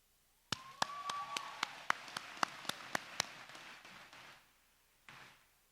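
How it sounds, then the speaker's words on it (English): At a high school graduation ceremony, a run of evenly spaced sharp claps stands out close to the microphone over a soft wash of distant audience applause, lasting a few seconds before fading. "please give yourselves a round of applause"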